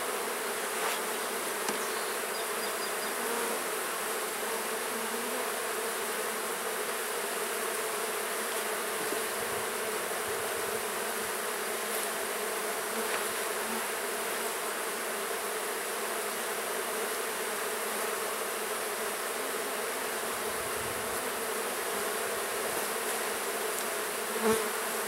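Honeybees hum in a steady, dense drone throughout an open beehive inspection, close and continuous with no talking, just occasional faint rustles.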